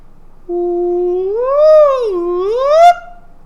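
A voice imitates a slide whistle, holding a steady tone, then swooping up, down and back up before cutting off.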